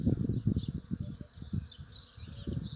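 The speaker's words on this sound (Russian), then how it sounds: "Пчелы на груше. Это старая груша." Bees hum steadily around an old pear tree in spring blossom, a soft, continuous buzz close by beneath occasional bird chirps and low rustling.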